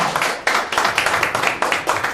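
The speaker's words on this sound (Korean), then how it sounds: "여러분 많은 박수 한번 해주시기 바랍니다" A crowd at a lecture applauds with steady, rhythmic clapping, the claps landing in even beats for a couple of seconds.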